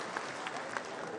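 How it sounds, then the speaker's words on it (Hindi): Audience applause at a Congress political conference in Rajasthan, a dense, steady patter of many hands clapping together at moderate volume throughout the short stretch, with a faint murmur of voices mixed in. "तालियों की जोरदार गिड़गिड़ाहट के साथ में उनका अभिनंदन करें"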